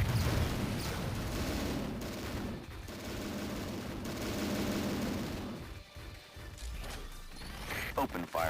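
Gunfire rattles in the Transformers Autobots DS video game, dense bursts of shots and impacts over a busy soundscape, with a voice speaking partway through.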